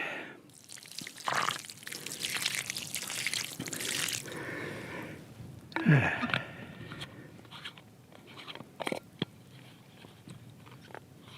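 Water is poured from a bottle onto a small tree outdoors in desert shade, with soft splashing and trickling bursts close by, separated by quieter gaps and a few light drips and rustles.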